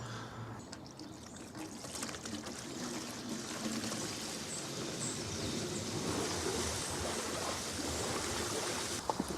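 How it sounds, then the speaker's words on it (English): A swimming pool pump forcing its full flow of water through a heat pump heater gives a steady rushing, gushing water roar that holds constant and close throughout with no talking. "that's the full flow through the pump now"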